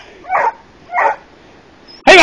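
A nine-month-old female dog on a wild boar trail gives two short, sharp barks nearby, spaced about half a second apart, followed by a sudden louder burst at the end.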